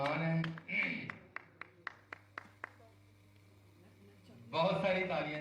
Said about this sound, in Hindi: बहुत सारी तालियां जी, बहुत सारी तालियां शाहरूम शाहीन साहब के लिए